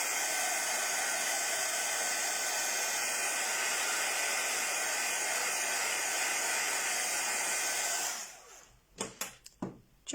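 A heat tool blows steadily to dry marker ink on an acrylic layer, a loud continuous whooshing hiss for about eight seconds before cutting off, followed by a few light clicks and taps.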